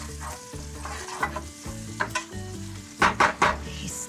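Greek meatballs stirred in a hot frying pan, with a steady oily sizzle under scraping and clacking utensil strokes and a few louder spits near the end.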